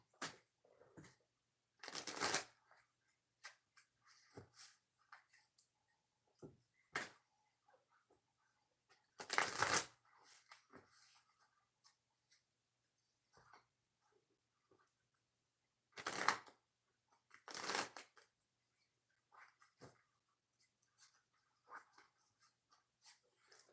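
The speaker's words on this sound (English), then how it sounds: "Three shuffles for Cancer's pick a card reading." Tarot cards are shuffled for a pick-a-card reading in a few separate bursts of riffling and slapping, close and fairly crisp, with quiet gaps between them and no talking.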